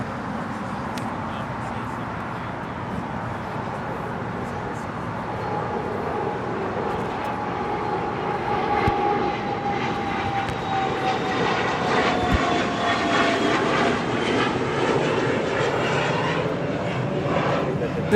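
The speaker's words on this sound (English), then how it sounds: "This Challenger 350 is departing to Austin, Texas" A Challenger 350 business jet departing Los Angeles International Airport for Austin, Texas, builds from a steady engine rumble into a louder whining roar with a rising tone, continuous and fairly close, with no talk.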